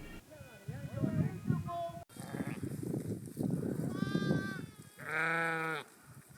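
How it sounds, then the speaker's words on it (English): A herd of goats and sheep bleats while entering a high-altitude valley with Kharnak nomads. Several nearby animals give wavering, overlapping calls over a steady outdoor murmur, ending with one loud, drawn-out bleat. "After the yaks, the herds of goat and sheep started entering the valley one by one."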